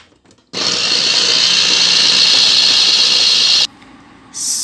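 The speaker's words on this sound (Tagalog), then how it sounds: "i-blender natin" A blender whirs loudly and steadily for about three seconds blending banana for a hair mask, cuts off, then starts up again briefly at the end.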